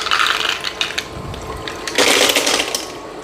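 A countertop ice maker's mechanism whirs and rattles continuously, with clicking, ratcheting movement and a louder clattering surge partway through, near and fairly loud with no talk.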